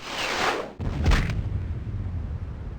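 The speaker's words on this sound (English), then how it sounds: "Great, we're shooting an explosion over there" An explosion spell goes off in the fantasy game Ultima VIII: Pagan, a loud booming blast with a whooshing burst that cuts off sharply, then a second rumbling hit trailing into a low, steady roar.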